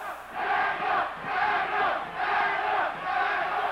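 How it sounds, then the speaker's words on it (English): Boxing crowd at a pro bout in Albuquerque chanting for a fighter, a loud rhythmic chant rising and falling in regular waves of massed voices, with no announcer talking over it. "And now the crowd starts to chant for Daniel."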